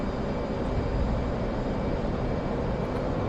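An F/A-18 fighter jet takes off in the flight simulator DCS, its engine a steady, loud, broadband roar that holds constant throughout with no talk over it.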